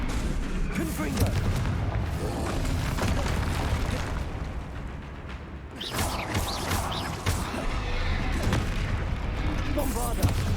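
Confringo fire blast spells bursting repeatedly in Hogwarts Legacy, a string of loud booming explosions over dense battle noise and music, with a short lull midway before the blasts resume.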